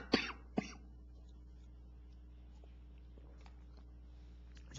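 Two sharp coughs sound close together at the start from a man who has a cold, followed by quiet room tone with faint small noises.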